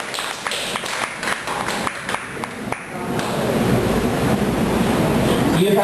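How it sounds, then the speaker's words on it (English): A club audience gives a round of applause for its general evaluators, dense clapping building after a brief pause and swelling into a loud, sustained wash of many hands. "Let's give a round of applause to Pat, to Ed, to Kiel, and to Ida."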